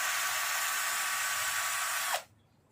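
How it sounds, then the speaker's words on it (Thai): An electric drill fitted as a car paint polisher whirs in a steady, loud, high whine for about two seconds, then cuts off abruptly into near silence. "เรามี สว่านแบบนี้นะครับ เราก็สามารถนำมาดัดแปลงขัดเงาสีรถได้เหมือนกันนะครับ"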